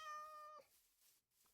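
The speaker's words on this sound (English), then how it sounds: "Hello, cat." A cat in Minecraft gives one clear, tonal meow lasting about half a second, followed by faint quiet background, with no talk.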